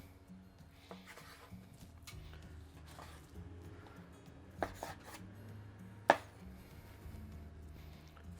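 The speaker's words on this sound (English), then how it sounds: "you want a nice big sabre type knife like this to cut them nice and even" Faint knife strokes slicing through wagyu beef steaks with a large sabre knife on a board, a few soft cuts with two sharper knocks, quiet and close.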